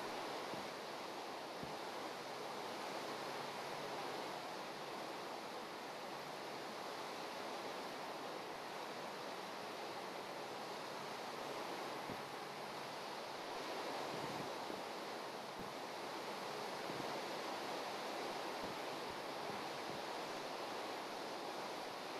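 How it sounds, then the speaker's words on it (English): Steady rain in a block-building video game falls as a continuous, even hiss of broadband noise with no pauses or voices. "it starts raining."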